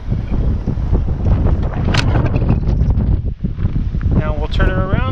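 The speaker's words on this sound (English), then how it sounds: "It's really windy out here." Strong wind buffets the microphone in loud, rough gusts, with a brief voice near the end over the roaring blasts.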